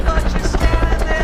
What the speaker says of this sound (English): there's a helicopter over here.